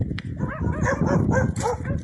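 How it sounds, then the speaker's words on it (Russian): Several dogs bark and yip repeatedly in a deserted, war-damaged village, close and fairly loud, with some whimpering, and a voice is faintly heard among them. "Одни собаки."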